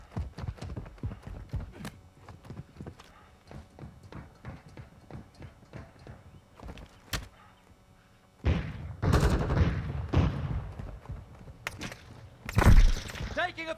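Gunfire in Call of Duty Modern Warfare from an MCX Rattler .300 Blackout rifle: scattered sharp shots early, then a loud sustained burst of rapid automatic fire and another close volley near the end.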